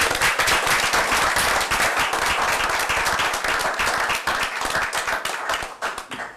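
Applause at a town council meeting in Mt. Airy, a room of people clapping briskly with distinct sharp claps, loud and sustained, tapering slightly toward the end.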